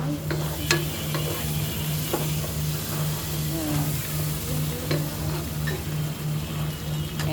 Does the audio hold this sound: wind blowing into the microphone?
no